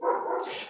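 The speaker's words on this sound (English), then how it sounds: "I'm sorry if you hear a dog barking in the background" A dog barks once in the background, a brief, fairly faint sound heard alone.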